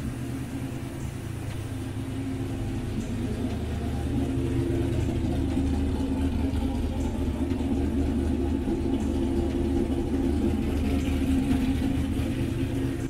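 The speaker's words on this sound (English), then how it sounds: "So this truck started right up, idling good." A supercharged, cammed Chevrolet Silverado pickup engine idles steadily with a low, even rumble and a faint whine, running alone at a constant level.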